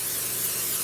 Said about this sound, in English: what I'll be using is this olive oil cooking spray